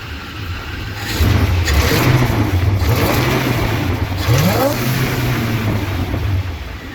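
A car engine fitted with a Holley carburetor runs at a steady idle, then rises into loud, close revs twice before settling back to a rough, even hum.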